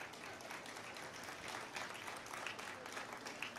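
Scattered applause at a Congress party press conference, a steady crackle of clapping from a small audience that carries on for a few seconds at moderate volume, with no talk over it.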